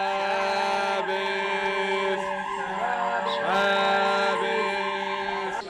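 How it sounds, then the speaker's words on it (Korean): A Shabbat siren in Jerusalem wails in a long sustained tone with layered harmonics, steady and fairly loud over faint street background, holding through the whole stretch. "사이렌이 울립니다. 안식일이 시작됐음을 아는데요."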